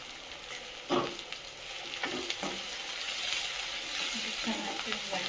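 Salted onions frying in a pan give a steady close sizzle, with a few scraping stirs across the pan and a brief clink near the start.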